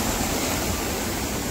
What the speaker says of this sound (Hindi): धुला सकते हो, बिल्कुल ऐसा खतरनाक झरना